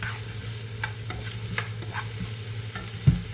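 Food with sliced bell peppers stir-fries in a pan with a brief, close sizzle and soft rhythmic scraping strokes, ending in one sharper clack.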